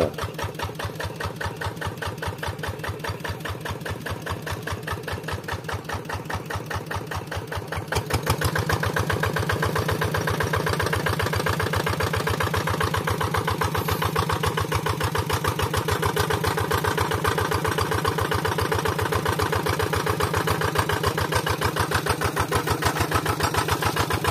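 The single-cylinder diesel engine of a Kubota RD85 tractor runs steadily, close by, with a fast, even chugging pulse. It picks up slightly in loudness and roughness partway through.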